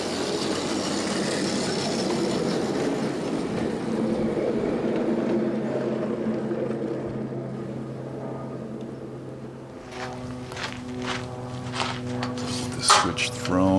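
A 15-inch gauge ride-on railroad locomotive rolls slowly onto a spur with a steady low rumble of wheels on track, then squeals and clanks as it slows near the end. Someone talks over it.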